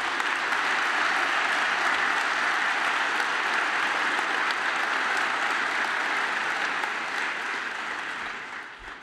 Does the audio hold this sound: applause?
yes